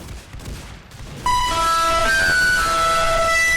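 A rapid burst of automatic gunfire rings out close and loud from a rifle in the video game Arsenal, following a brief quieter lead-in.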